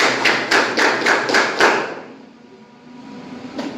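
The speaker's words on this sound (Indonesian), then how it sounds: "Tepuk 7 kali." A classroom of students claps together seven times in a quick, steady rhythm, loud and close, followed by a quiet room hum.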